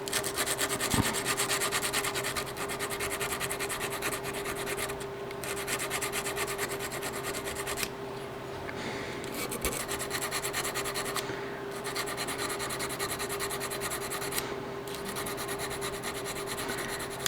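A hand file works the metal ejector of a 1911-style pistol, a steady close rasping scrape running almost continuously with a few brief pauses and no talk.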